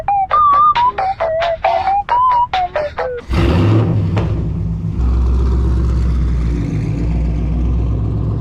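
A fifth-generation Chevrolet Camaro SS engine roars to life after a stretch of high tonal chirps, then settles into a loud, steady, close rumble that carries on without talk.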